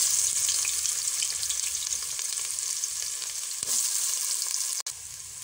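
Onions fry in hot oil for mutton pulao, a loud, dense, steady sizzle close up with faint stirring, ending in a brief clatter and a slight drop in intensity.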